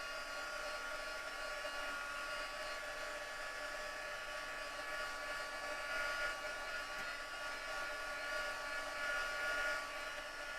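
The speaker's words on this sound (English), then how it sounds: "if I just give it a little bit of a blast with the heat gun?" A heat gun blows on a wet craft piece with a steady, continuous whooshing whine that holds at an even level throughout, with no talking.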